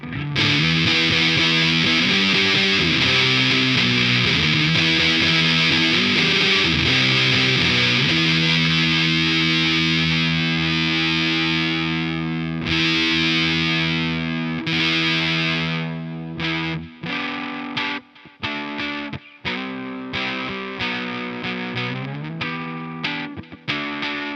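Electric guitar through a Walrus Audio Fundamental Series fuzz pedal into a Boss Katana amp, heavily fuzzed and broken-speaker toned, rings in long saturated held notes, then choppy stop-start chords with abrupt cuts, loud and alone.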